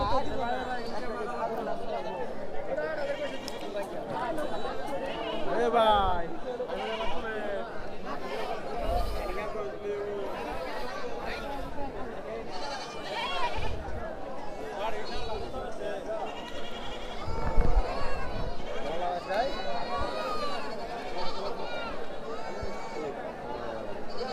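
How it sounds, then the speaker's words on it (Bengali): Goats bleat repeatedly at a crowded village goat market by the Satpakia ferry ghat bazaar in Sherpur, the calls rising over constant crowd chatter and nearby talking. "প্রচুর ছাগল রয়েছে দেখতে পাচ্ছেন"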